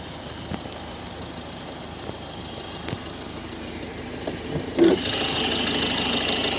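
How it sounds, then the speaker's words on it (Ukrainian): A 2011 Volvo V50's 1.6 HDI diesel engine cranks and catches, then settles into a steady, rumbling idle with a faint knocking character, heard up close. "Зараз підемо подивимося, як працює наш двигун."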